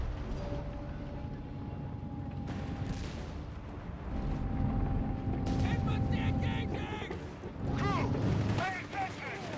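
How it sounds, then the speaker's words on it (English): Gunfire in the Company of Heroes 3 strategy game, with machine gun bursts and artillery rumbling in a dense mid-distance battle mix, while a commentator talks over it. "Northeast section firing away there."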